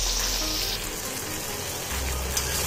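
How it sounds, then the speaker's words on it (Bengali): Masala of sugar, salt, turmeric and Kashmiri chilli powder with chopped tomato sizzles steadily in a hot pan, a continuous bright frying hiss with no one speaking. "এই মশলাটার উপরে দিয়ে দিচ্ছি টমেটো কুচি।"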